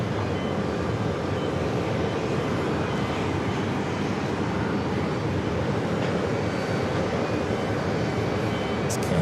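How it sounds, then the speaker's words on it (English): An Avianca Airbus A320neo takes off from runway 4 Left at New York's JFK Airport, bound for Bogota. A steady, broad jet engine roar holds at a constant loud level throughout, with no voices. "Next takeoff on 4 left, Avianca flight 211 heading to Bogota, Colombia. It's an A320 Neo."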